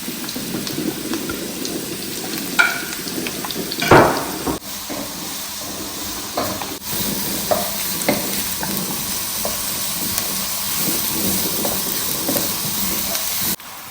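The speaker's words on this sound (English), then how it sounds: "So I'll go in with my chopped onions. Chopped onions and carrots because they are all hard and they can cook at the same time." Chopped onions and carrots frying in a pan for Ghanaian street-style fried rice, a constant hiss of sizzling oil with occasional louder stirring scrapes and spatters, close up.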